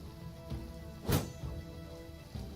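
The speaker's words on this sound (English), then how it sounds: "Sounds of shields being hit." In the video game Battle Brothers, a shield is struck during combat, giving one dull thunk that stands out over faint game ambience, with softer knocks just before and after.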